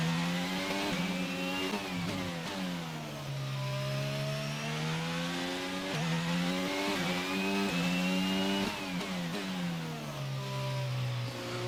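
A failing Formula 1 car engine in the F1 22 racing game, whining and revving through repeated rising and falling sweeps, loud and continuous with no talk.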